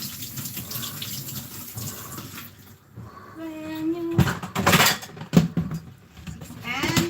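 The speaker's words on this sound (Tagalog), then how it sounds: "Lugas plato si Inday." Dishes are washed under a running kitchen tap, with water splashing, a faucet stream and clinking plates. The sounds are close and moderately loud, swelling toward the end.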